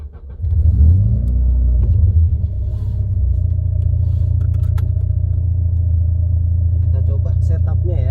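A car engine on the Sentul race circuit rumbles loudly and steadily at close range, swelling briefly with a rev near the start before settling into a deep, continuous drone.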